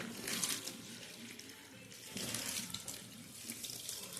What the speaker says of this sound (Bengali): খুব সুন্দর করে ধুতে হবে